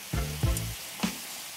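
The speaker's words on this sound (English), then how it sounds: "Make sure that your frying pan is hot, so the cherries go straight into the frying pan." Pitted cherries hit a hot frying pan with soft thuds and a steady sizzle, close and fairly quiet, with no talking.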